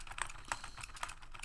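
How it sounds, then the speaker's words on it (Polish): Typing on a computer keyboard, picked up by a Blue streaming microphone: a quick run of crisp, close key clicks with irregular spacing, alone and without speech. "w tym, jak jest przechwytywany aktualnie dźwięk klawiatury."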